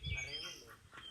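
A swan calls at a resort, giving a brief honking bird cry close by while people talk in the background.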